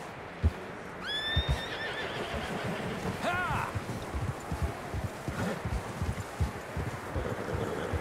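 In the video game Red Dead Redemption 2, a horse whinnies twice, high and drawn out, over a steady clip-clop of hooves and rustling, with a voice faintly underneath.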